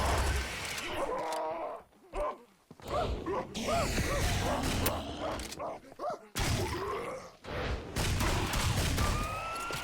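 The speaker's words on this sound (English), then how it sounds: "Oh, grenades!" Chaotic Serious Sam 4 video game combat: sharp, loud bursts of grenade explosions among rattling gunfire and clanking, broken by short pauses, with voice-like sounds in between.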